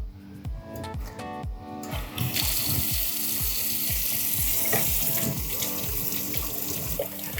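Hot water runs steadily from a tap while the flow is set on a Bosch 16P pilot ignition hot water system, a continuous splashing rush with rhythmic mechanical ticking underneath.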